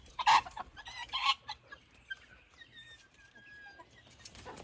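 Young hens cluck and murmur close by in short bursts, with a few higher squawks and scattered soft pecking sounds in between; no talking.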